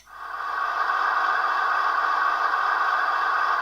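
A DCC model railroad locomotive's diesel prime mover sound, turned down in volume, a steady droning mechanical hum from a small speaker, constant and even after a brief fade in.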